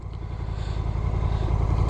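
A Honda CMX1100 SE DCT motorcycle engine runs with a steady, low rumbling throb under road and wind noise throughout.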